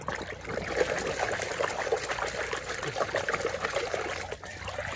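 Water runs and trickles steadily while muddy toy cars, including monster trucks, cement mixer trucks and racing motorbikes, are washed clean; a continuous close splashing flow without pause.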